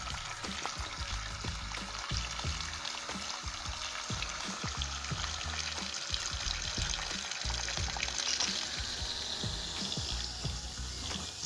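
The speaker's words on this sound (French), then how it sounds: "La pompe tourne à fond. Hop. 3, 2, 1. Le niveau de l'eau baisse très vite." A homemade DIY water pump runs at full power, draining water from a small tray with a continuous close rushing, gurgling splash and a steady motor hum.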